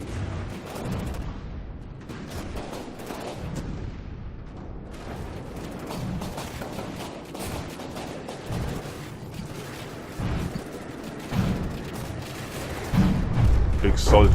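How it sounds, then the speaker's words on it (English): Cram cannons in the naval combat game From the Depths boom repeatedly, heavy irregular blasts and impact thuds under faint speech, growing louder and denser toward the end. "big solid cram hits there"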